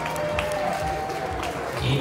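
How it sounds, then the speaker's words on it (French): Spectators applauding runners at the finish line of an ultra trail race in Corsica, steady scattered clapping close by, mixed with crowd noise and brief voices. "les applaudissements"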